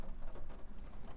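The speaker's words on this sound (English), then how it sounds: "it's starting to pick up rain" Soft, steady rain falls during a thunderstorm as a continuous gentle patter, faint and with no talking.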